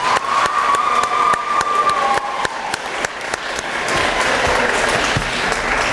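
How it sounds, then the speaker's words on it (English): A school audience at a middle school continuation ceremony claps and cheers in a dense, sustained wave of applause, with a whistle-like tone early on and the crowd noise swelling louder toward the end. "Let's give enough of a cheer so she can hear us down there."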